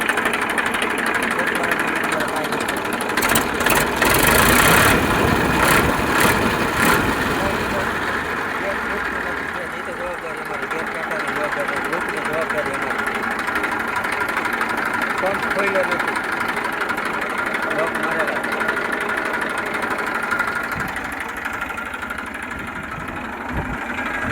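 An Eicher 380 tractor engine idling with a steady mid-pitched rumble and faint knock, someone talking over it for much of the time and a few sharp clicks early on.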